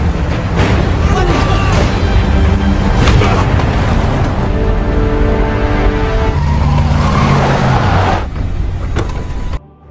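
A car revs hard and speeds off with tires squealing in a skid as a prisoner escapes a guard, the engine loud and close throughout, with voices faintly underneath before it cuts out.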